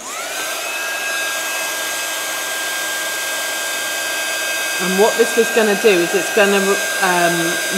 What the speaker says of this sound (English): I'm going to go in with a heat gun.